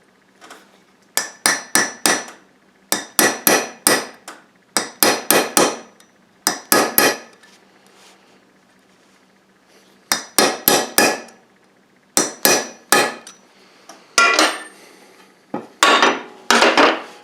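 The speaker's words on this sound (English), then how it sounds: "take a center punch here and get it just a little bit below the wood" Repeated hammer blows drive a center punch into the wooden handle of a double bit axe, struck in tight bursts of three to five sharp metallic taps with short pauses between, loud and close with no talking.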